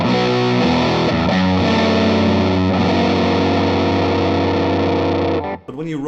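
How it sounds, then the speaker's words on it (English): Electric guitar through a fuzz pedal with the guitar's controls maxed, heavily distorted with a thick, dirty fuzz tone, sustained chords ringing loud and close before cutting off near the end. "you get a really dirty sound"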